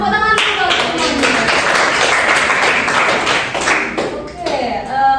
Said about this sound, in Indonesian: udah kita semua tepuk tangan dulu semuanya